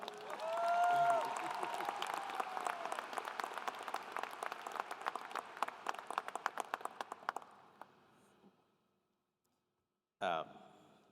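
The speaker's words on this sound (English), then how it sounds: "so let's give him a round of applause" Audience applause for Dr. Gilmore at a spring commencement ceremony, a broad crowd clapping that thins and tapers off after several seconds into near silence, followed by a brief loud burst at the end.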